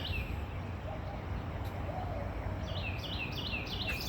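Faint birds chirp in short repeated phrases over a steady background hiss, growing more noticeable toward the end.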